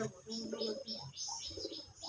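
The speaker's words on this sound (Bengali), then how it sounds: "অনেকগুলো কবুতর বিদেশি দেশি ওই বসে আছে কবুতর" Many domestic and foreign-breed pigeons coo softly in a low, throaty rhythm amid faint chirps and a quiet murmur of voices in the background.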